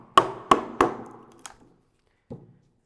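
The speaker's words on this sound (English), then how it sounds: "dropping the chisel into the score line, it's just sort of opening up in front of the chisel" Sharp wooden chisel strikes cutting a through mortise, three loud ringing knocks in quick succession, then a lighter tap and a final softer knock after a pause, close and without talk.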